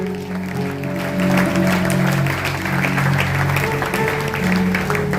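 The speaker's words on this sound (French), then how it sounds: "Est-ce que tu peux acclamer?" A church congregation applauds and cheers together, a steady wash of clapping and crowd noise that holds at a fairly loud level throughout, with a sustained tonal hum underneath, likely music.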